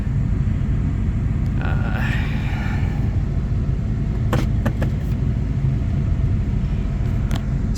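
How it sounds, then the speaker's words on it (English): A 1995 Buick Park Avenue drives along with a loud, steady low road rumble and engine drone throughout, with a few faint clicks and creaks inside the cabin. "All right, let's take it for a quick drive."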